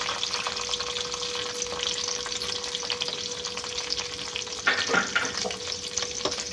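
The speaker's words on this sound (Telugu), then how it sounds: "ఇది కొంచెం ఒక 2 మినిట్స్ ఆనియన్ ట్రాన్స్పరెంట్గా అయ్యేంత వరకు ఫ్రై చేసుకుందాం." Onion and green chilli frying in oil for tempering, a steady close sizzle with a faint constant hum beneath and a brief burst of stirring near the end.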